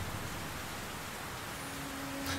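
Heavy downpour in the video game The Black Mirror 3: a dense, steady hiss of pouring rain, even and unbroken, with no voices over it.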